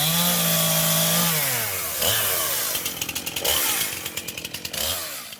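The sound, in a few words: chainsaws cutting tree wood after storm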